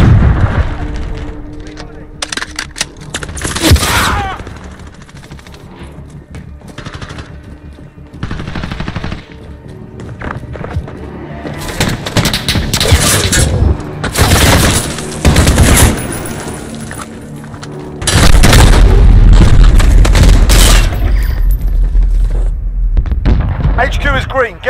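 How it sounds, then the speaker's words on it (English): Heavy explosions from an enemy cruise missile strike in Modern Warfare multiplayer arrive as repeated loud, close blasts amid bursts of gunfire, with radio voices and announcer callouts mixed in between. "Enemy cruise missile incoming"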